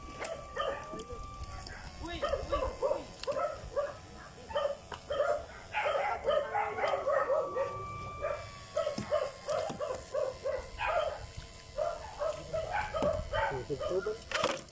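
Small dogs bark repeatedly beside an irrigation canal, rapid yapping bursts in quick series, with a rooster crowing in the background.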